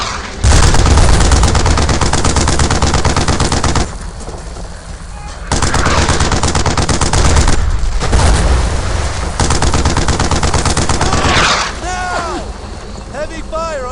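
Dense rifle and machine-gun fire rattles almost nonstop through a World War II firefight in Brothers in Arms: Earned in Blood, loud and close, with shouted voices mixed in and a brief lull near the end.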